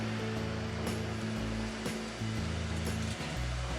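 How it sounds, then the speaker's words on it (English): A small vacuum cleaner hums and hisses steadily at a low level, running continuously in the background. "that's just the little vacuum cleaner going"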